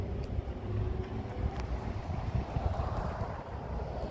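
Cold wind blows outdoors on a cloudy day in Canada, a steady, low, rumbling buffet against the microphone that lasts throughout, with no voices.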